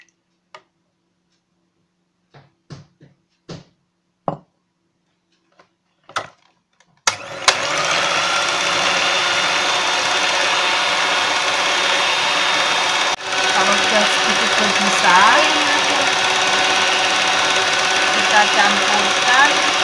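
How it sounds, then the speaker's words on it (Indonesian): An electric hand mixer whips egg whites for a rice cooker cheesecake. After several sharp clicks and knocks it starts, then runs with a loud, steady whirring buzz for about thirteen seconds. "Pertama-tama kita kocok putih telur."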